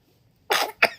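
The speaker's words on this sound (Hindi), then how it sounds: "उसकी वजह से गले में खांसी आती है इसको बार बार" A young child with a cold coughs twice close by, a longer harsh cough followed by a shorter sharp one, in an otherwise quiet room.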